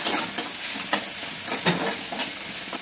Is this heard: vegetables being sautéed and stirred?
yes